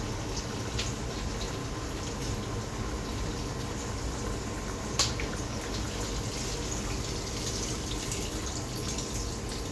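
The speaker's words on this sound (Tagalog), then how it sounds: "Nadagdag tayo ng sabaw." Broth being poured into a pot of pork ribs nilaga, a steady continuous watery pour with bubbling, close and fairly loud throughout with no talk.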